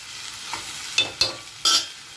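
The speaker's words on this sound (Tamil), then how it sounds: "இது நல்லா வதங்கணும் நிதானமாக." Ingredients for a lentil ball curry sauté in a pan, with a soft sizzle under several distinct scraping stirs of a spoon against the pan.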